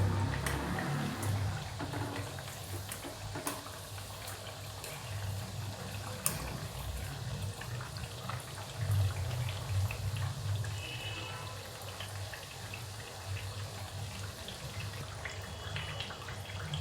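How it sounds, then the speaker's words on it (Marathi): Steady low bubbling and gentle crackle of oil frying chakli on low heat close by, a continuous fizzing hiss with occasional louder pops. "तळल्या गेल्या चांगल्या तर तेल सोडते बुडबुड येतात तेलाला"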